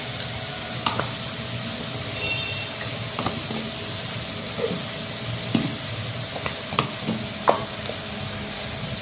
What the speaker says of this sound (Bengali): ভালো করে মশলাটা টমেটোর সাথে কষিয়ে নিব ভালো করে